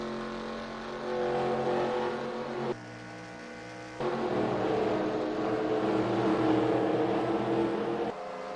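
Pack of race cars in the eNASCAR Heat game at Daytona, engines droning loudly and steadily with harmonic whine, a brief dip near three seconds before the roar swells again and holds.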